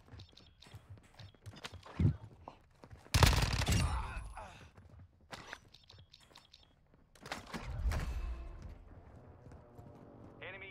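A minigun with unlimited bullets fires in a video game, loud rattling bursts breaking out twice between quieter scattered shots and clatter, close and sharp.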